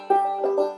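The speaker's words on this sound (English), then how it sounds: "A couple times I'm going to be doing a hammer on." Banjo hammer-on while playing Little Maggie: a single plucked note rings clearly, followed by two quick hammered notes that sound without a fresh pick, close and alone.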